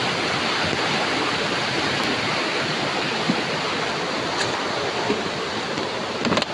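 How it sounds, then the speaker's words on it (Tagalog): Steady broadband rush of a shallow creek flowing among bamboo at a river, continuous and fairly close, with a few faint knocks near the end and no talking. "sapa lang dyan ni siya"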